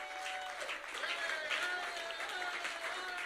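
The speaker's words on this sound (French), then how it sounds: "Donnons une acclamation au Seigneur." Church congregation applauding during a French-language sermon, steady dense clapping throughout with cheering voices and a sustained tone layered over it.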